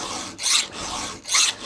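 A file rasps across the teeth of a badly damaged semi-chisel chainsaw chain during sharpening, two close, rhythmic strokes with a short pause between them.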